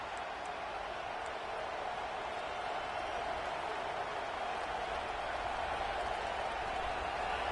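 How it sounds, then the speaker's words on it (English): Stadium crowd noise in EA Sports College Football at a Ducks season opener, a steady, dense roar and murmur of a large crowd that holds at an even level throughout, with no distinct cheers or spikes. "This crowd ready to make its presence known."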